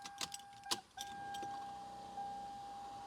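A Lexus SC430 is switched on: a few key jangles and clicks, then a steady electronic chime tone and a low idle hum that swells slightly partway through.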